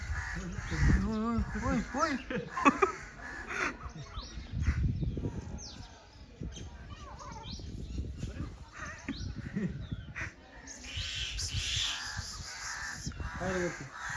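Crows caw repeatedly amid people talking, the harsh calls scattered through the scene with voices continuing over them.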